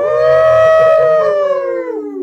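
A person imitates a wolf howl on a podcast, one loud, close, sustained howl that rises and then slowly falls over about two seconds, with nobody speaking.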